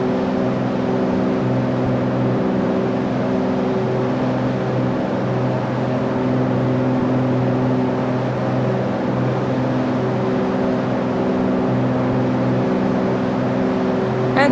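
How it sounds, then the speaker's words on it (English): Steady drone of an aircraft engine accelerating during a climb in the X-Plane 11 flight simulator, a continuous tonal hum with layered harmonics that stays loud and even throughout, with no talking. "there is our aircraft happily accelerating"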